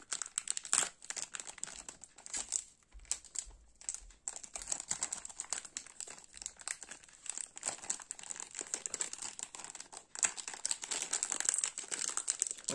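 Crinkly plastic of a Godrej Selfie shampoo hair colour packet being cut open along its side, with steady close crackling and crumpling that runs throughout, louder bursts near the start and end.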